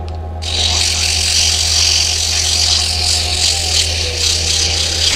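A lathe whirs steadily over a low motor hum, with a continuous gritty hiss of sandpaper against a spinning polymer clay top.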